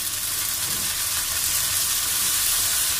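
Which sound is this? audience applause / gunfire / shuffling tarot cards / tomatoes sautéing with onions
tomatoes sautéing with onions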